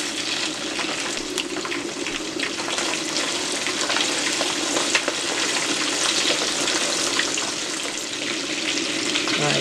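Shrimp frying in a pan while cooking Liberian fried cabbage with pork jowl, a steady, loud, close crackling sizzle that holds evenly throughout with no talking.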